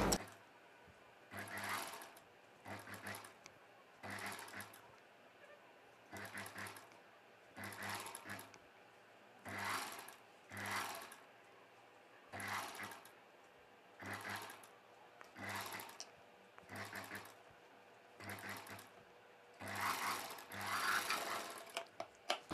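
A sewing machine stitches the neck part of a long dress in short repeated bursts of whirring, about a dozen separate runs with brief pauses between them, faint and close.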